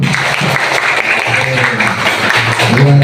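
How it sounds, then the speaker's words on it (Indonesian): A classroom of students claps together in a loud, close burst of applause that continues through the moment, with some voices mixed into the clapping. "luar biasa, tepuk tangan."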